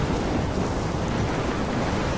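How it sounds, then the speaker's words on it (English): Steady, dense rumble of a thunderstorm with heavy rain in the video game Life Is Strange, a continuous loud wash with no distinct thunder crack standing out. "I'm trapped in a storm?"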